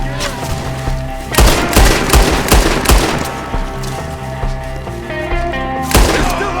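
Rapid bursts of gunfire in Red Dead Redemption 2 during a firefight with enemies up in the trees, loud repeated shots and booming volleys with a pause between clusters, shouted voices faintly underneath.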